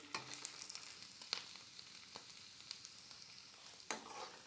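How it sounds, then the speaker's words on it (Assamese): Potatoes fry in a pan with a quiet, continuous sizzle and crackle, broken by a few sharp stirring clicks and scrapes, heard alone without voices. "আলুখিনি আগতীয়াকৈ ভাজি ল'ম"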